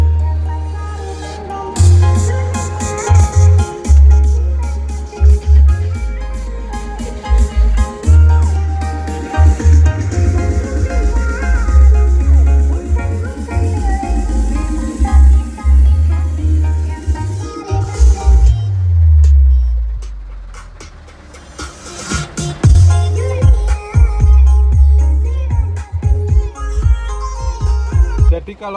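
Music plays through a universal 2-way ceiling-mounted speaker setup in a pickup, with a subwoofer backing it at volume 25. Loud and continuous with heavy bass, dipping briefly about two-thirds through before returning full.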